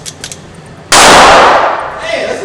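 A Kimber Solo CDP compact pistol has its slide locked to the rear, a single loud metallic clack that rings out briefly after a few soft handling sounds.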